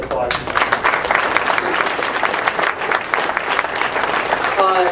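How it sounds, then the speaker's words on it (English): Dense, sustained applause from a large audience at a First Amendment awards event for press advocates, steady and loud throughout, with a voice briefly audible near the end. "we should applaud him"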